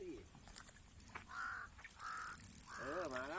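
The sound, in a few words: crow cawing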